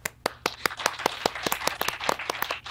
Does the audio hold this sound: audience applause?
yes